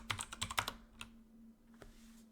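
A password is typed on a computer keyboard in a short burst of about six quick, soft key taps up close, then two isolated taps after a pause, over a low electrical hum.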